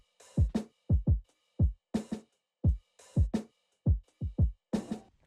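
Percussion loop sample from Producer Grind in a trap-style FL Studio beat knocks out punchy booming kicks and crisp snares in a repeating, syncopated pattern, clean and up close with no voices.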